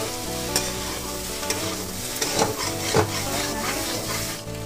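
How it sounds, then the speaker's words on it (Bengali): Soybean chunks stir-fried with spices in a pan: rhythmic spatula scrapes and knocks over a constant close sizzle, with a faint steady tone running underneath, no voices. "এবার সোয়াবিনটা দিয়ে খুব ভালো করে একদম কষে ফেলতে হবে।"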